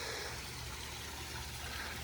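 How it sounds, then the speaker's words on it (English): Water pours steadily down a pondless waterfall with a cement bottom in a home backyard, a constant broadband rushing splash heard up close with no break. "Then this is a pondless waterfall."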